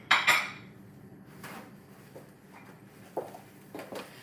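A fancy plate clatters as it is lifted out and set down: two sharp ceramic clinks open the sequence, followed by softer knocks and taps of dishware spaced out over several seconds, close and fairly quiet.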